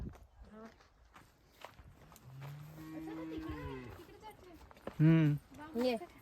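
Cows on a farm field low with a long drawn-out moo followed by shorter, louder calls near the end, close by, with footsteps and people talking around them.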